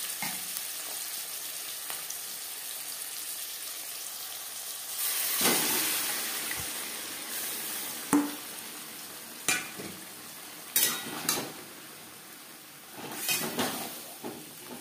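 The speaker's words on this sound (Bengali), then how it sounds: "1-2 মিনিট পেঁয়াজ ভেজে নেওয়ার পর দিয়ে দেবো ম্যারিনেট করে রাখা মাছ।" Marinated fish pieces fry with onions in a pan over high flame, a quiet steady sizzle punctuated by several sharp stirring scrapes and clanks.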